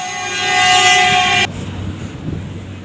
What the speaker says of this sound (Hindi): वैसे हॉर्न कुछ ज़्यादा ही तंग कर रहे हैं